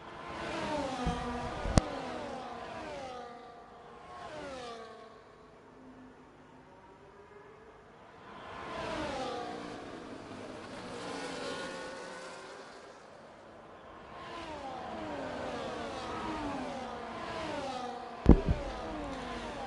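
F1 race cars in a racing video game, engines rising and falling in pitch as they pass in waves and fade between, with two short sharp clicks standing out.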